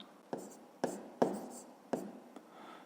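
Pen strokes scratch on paper as a number is written down, four or five short distinct scrapes in a quick uneven rhythm, close and quiet.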